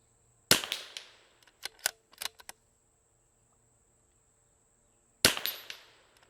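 Two sharp, close .22LR rifle shots from Vudoo and RimX rifles crack several seconds apart outdoors, each followed by a short rattle of echoes, with faint clicks of bolt handling in between.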